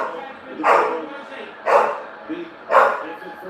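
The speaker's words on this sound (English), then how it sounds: "Shut the hell up, you stupid bloody dog!" A dog barks three times at roughly one-second intervals, close and fairly loud, each bark short and sharp over a quiet background with faint low murmuring.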